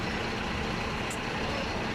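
Heavy road traffic in a jam, with trucks and buses idling in a dense, steady engine rumble and broadband roar, close by, with no clear gaps.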